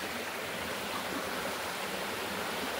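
Clear water flowing in a stream among hills and areca palms, a steady, full rushing wash that stays constant throughout without voices.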